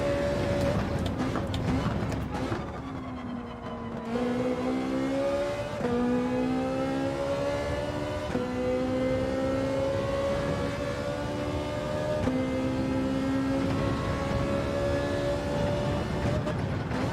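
A Ferrari race car engine in Gran Turismo 7 roars and holds a high, steady whine, rising through gears with brief shifts, loud and continuous, with no talking.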